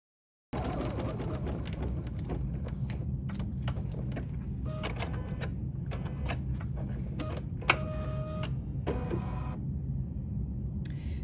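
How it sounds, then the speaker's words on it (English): A Bernina 880 plus sewing machine runs with a steady mechanical whir and rapid stitching clatter, broken by short pauses and a few brief whines and clicks, close and continuous for about eleven seconds. "we're threading our bobbin for regular sewing if you're using a Bernina 880 plus"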